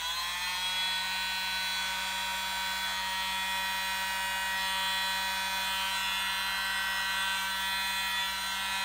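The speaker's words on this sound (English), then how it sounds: "get my little blower out and blow" A small electric blower hums steadily and close as it pushes acrylic pour paint into a wing shape for a butterfly puddle pour, giving a continuous whirring drone with no break.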